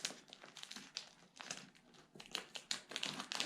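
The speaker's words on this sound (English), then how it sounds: "Cut this bag open and see what we got." A plastic bag holding custom seat covers for a 1957 Chevy is cut open and handled, giving bursts of loud, close crinkling and rustling with short pauses, no talking.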